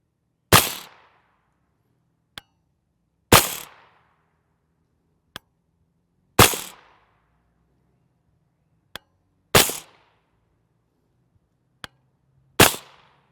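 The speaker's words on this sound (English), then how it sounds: "You could probably hear that supersonic crack with the 16 inches." Five sharp 9mm rifle-length shots from a 16-inch barrel firing IMI blue tip ammunition crack out a few seconds apart. Each has a short decaying tail, and a faint click falls between shots.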